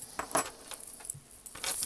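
Metal D-rings meant for a leather bag jangle in a few short, light clinks scattered over a quiet background, close to the listener.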